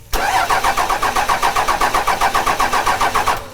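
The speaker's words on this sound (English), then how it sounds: "All right, go ahead and crank it, Vince." A Cummins diesel engine with a newly installed VP44 injection pump cranks over on the starter in a fast, even rhythm of repeated chugs, loud and close, without catching.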